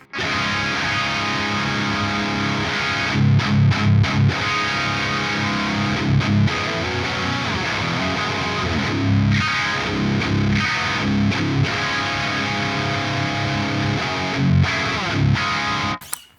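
Heavily distorted electric guitar chugs through a Das Metal amp model on an AM4, default settings, steady and dense with rhythmic palm-muted bursts and short stops, loud and close.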